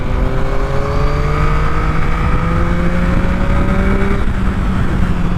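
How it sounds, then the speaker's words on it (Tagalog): Yamaha MT-09 motorcycle accelerating in traffic, its engine note rising steadily through the gears with loud wind rush around the rider, close and continuous, with no talking. "grabe marangkada sa MT-09 malakas talaga"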